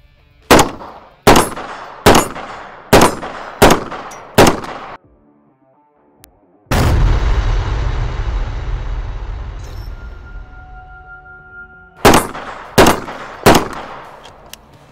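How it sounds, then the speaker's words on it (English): A B&T APC556 rifle fires in semi-auto: five loud, evenly spaced single shots, a long roaring rumble after a short pause, then three more close, sharp shots, with no talking. "Try a little semi-auto to begin with."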